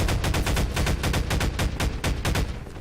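Rapid automatic gunfire in Half-Life 2, a steady stream of sharp, loud shots in quick succession with no talking over it.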